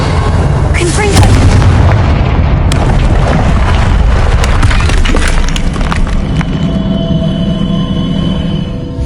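A Confringo blasting spell goes off in a Harry Potter video game, a loud booming explosion with rumbling debris and crackle that fades into a lingering tonal hum.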